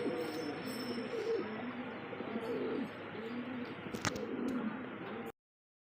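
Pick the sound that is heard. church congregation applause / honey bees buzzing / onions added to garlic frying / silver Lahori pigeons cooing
silver Lahori pigeons cooing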